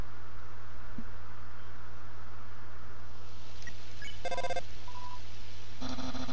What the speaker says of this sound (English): Seems like the phone connection is getting weak.